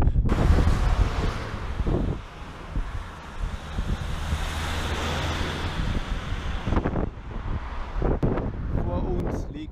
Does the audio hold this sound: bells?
no